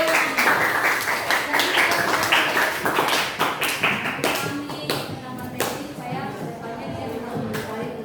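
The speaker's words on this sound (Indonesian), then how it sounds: "kita berikan tepuk tangan" A school class of ninth-graders claps hands in the classroom, a loose, uneven patter of claps lasting several seconds with a teacher's voice and student chatter around it.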